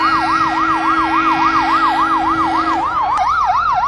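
A 1996 International pumper fire engine at a community day parade sounds a loud, close electronic wail siren, rapidly oscillating, with a steady horn-like tone beneath that cuts off before the siren shifts pattern.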